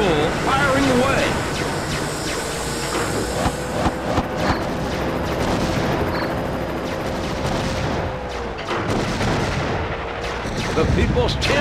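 In the WWE Crush Hour video game, The Rock's vehicle weapon fires in a rapid series of heavy booms over rumbling engine and arena-game noise.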